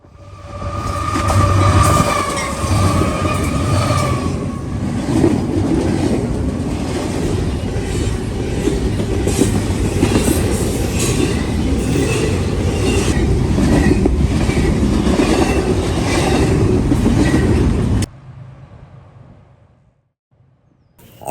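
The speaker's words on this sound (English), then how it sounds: "A CSX YN2 leads I-141 southbound at Trenton." A CSX freight train, I-141, led by a YN2-painted locomotive, rolls southbound past at Trenton, Ohio, a loud, steady rumble with rhythmic wheel clatter that holds for about eighteen seconds before cutting to quiet.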